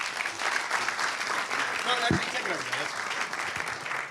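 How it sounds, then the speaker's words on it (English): Audience at a hall of fame panel event gives a sustained round of applause, a dense, even wash of clapping with voices and cheers mixed in. "Guys, let's give a big round of applause."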